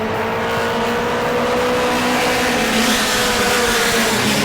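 A modified mini race car, number 112, roars past at the finish of a Mod Mini 50 race at New Smyrna. The engine drones loud and steady throughout, with no voices audible.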